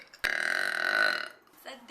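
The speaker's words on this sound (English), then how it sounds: "they need that burp" A single loud, drawn-out burp after eating a breakfast wrap, lasting about a second with a short trailing sound afterward.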